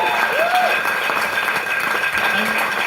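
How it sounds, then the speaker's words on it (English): Audience applause at a wedding speech, steady clapping from a room of guests lasting the whole stretch, fairly loud and close, with some voices and a brief cheer mixed in. "which deserves another round of applause."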